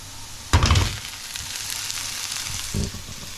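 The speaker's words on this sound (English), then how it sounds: "I'm going to put them in the pan with the carrots and the onions." Broccoli, sweet corn, carrots and onions hit a hot pan with a loud sizzling burst, then fry quietly, and a second short sizzle follows near the end.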